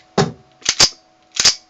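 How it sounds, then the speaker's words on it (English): A Ruger pistol dry fired: three sharp metallic hammer clicks, the last two doubled, close up in a quiet room with no talking. "There's no decock on this, so you're dry firing it."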